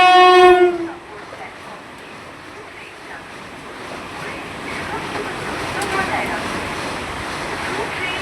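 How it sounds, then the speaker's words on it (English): A short train horn blast sounds, then the Howrah–Kamakhya Vande Bharat Sleeper Express rushes through a station platform without stopping, with a steady, building rumble and hiss. "Through train will be passing from platform number 3."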